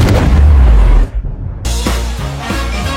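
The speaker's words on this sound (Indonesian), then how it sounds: "Dan bom di gardu listrik meledak" A bomb explodes at an electrical substation in a film scene, a loud deep blast and rumble that cuts to brief silence before dramatic music and sound resumes.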